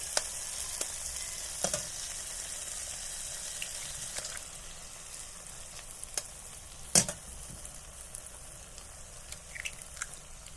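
Two eggs scramble in a pan of oil-released spice masala, making a steady soft sizzle with scattered clicks and one sharp scrape from stirring. The sound is fairly quiet and continuous, with no voices.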